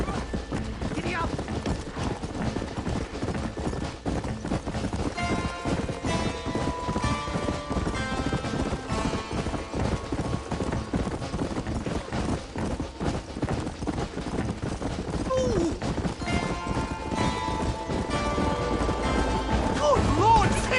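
Horse hooves gallop in a fast, steady clip-clop rhythm in the Red Dead Redemption video game, mixed with game sounds and occasional voices over the pounding.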